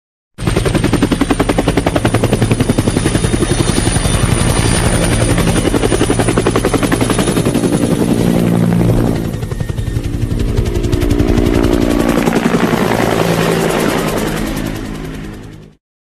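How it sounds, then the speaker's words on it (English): A helicopter's rotor in the video game Landscape chops steadily and loudly throughout, with bursts of rapid gunfire crackling over the engine drone. "Helicopter."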